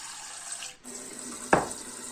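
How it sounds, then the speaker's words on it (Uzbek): Kitchen tap water runs in a steady, even hiss while a water filter is installed, close and moderately loud, with one brief splash or clunk near the end. "Mana bizning damxo'ja kranimiz suvi."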